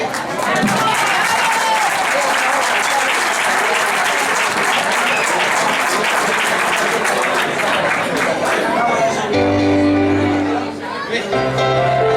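Audience in a cider bar gives a band a loud, sustained round of clapping mixed with chatter and cheers. Near the end it thins, a few tonal musical notes break through, and the clapping briefly swells again.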